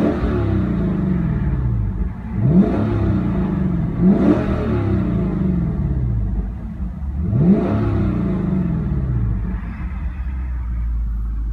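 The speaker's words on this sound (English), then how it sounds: "we're first going to listen to the exhaust in standard mode, and then sport, and then sport plus" A 2017 Mercedes-AMG C63 S exhaust revs hard three times, each sharp rising roar dropping back to a deep, rumbling idle between blips.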